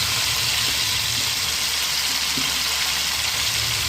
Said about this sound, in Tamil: அதனால் கொத்தமல்லியும் நம்ம எண்ணெயில் வதக்கிடணும்